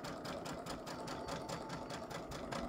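A sewing machine stitches through fabric scraps, a steady rapid rhythmic chatter of needle strokes at close range, running continuously without pause.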